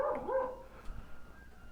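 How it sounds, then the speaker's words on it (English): A dog lets out a short burst of barking that fades into a soft trailing whine, faint and somewhat distant, with no talking. "We had a dog alert."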